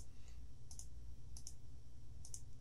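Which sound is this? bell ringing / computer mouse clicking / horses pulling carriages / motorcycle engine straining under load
computer mouse clicking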